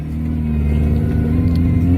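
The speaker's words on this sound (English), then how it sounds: "I just pulled out from this car" A car engine hums steadily as the vehicle pulls away, with a low, even rumble and a constant drone holding close and alone for the whole stretch.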